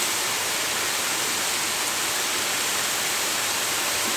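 Steady broadband rushing of a creek flowing beside a rainy fall campsite near a waterfall, a continuous even wash of water with no voices.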